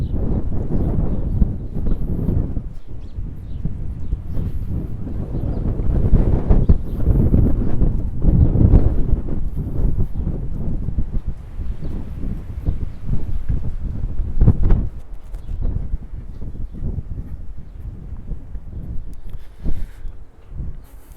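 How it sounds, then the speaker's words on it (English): Steady wind buffeting the microphone on an outdoor walk in Newport, a loud continuous rumble that surges and eases throughout. "Oh, it's a bit windy."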